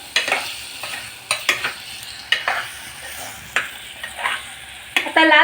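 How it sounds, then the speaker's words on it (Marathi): Red chilli powder roasts in a pressure cooker for a bombil and potato curry, a soft sizzle beneath a series of sharp spatula scrapes and stirs in an uneven rhythm, close and clear with no talking. "तिखट टाकून आपण ते कुकरमध्ये भाजतोय आपण"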